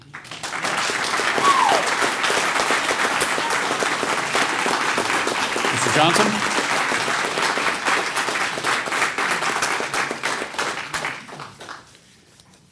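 An audience at a county Republican candidate forum applauds for about eleven seconds, a dense wash of clapping that starts abruptly, holds steady, then thins and fades out; a voice briefly speaks over it.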